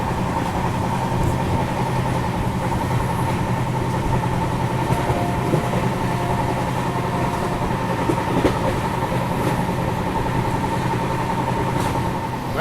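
The Varanasi Mahamana Express running at about 110 km/h, a steady loud rumble of wheels on rails with a constant hum and occasional clicks, heard from inside the carriage.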